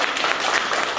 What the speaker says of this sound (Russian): хлопаем, хлопаем, хлопаем